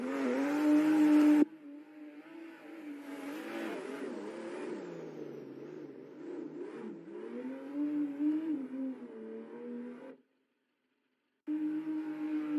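A Toyota race car engine in a virtual racing game screams in a high whine, rising and falling through gear shifts, drops to silence for about a second, then returns at full volume.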